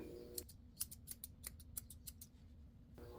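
Scissors snip hair around a poodle mix's eyes during grooming, a close series of about a dozen sharp, quick metallic clicks in an uneven rhythm over a soft low hum.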